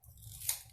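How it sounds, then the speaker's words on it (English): Scissors cut through aluminium foil for a kids' foil tooling art project, making a single short crisp snip, close and quiet with no voices. "Cut this again."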